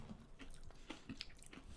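Crunchy soya stick chips in magic masala flavour being chewed close up, a short run of soft, quiet crunches and bites.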